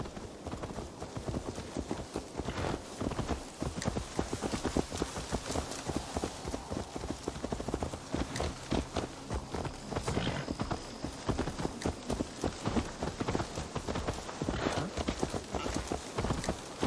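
Horse hooves clip-clopping in the Assassin's Creed Valhalla video game, a steady rhythmic trot of close, crisp hoofbeats continuing throughout, with a brief whinny-like tone midway and no talking.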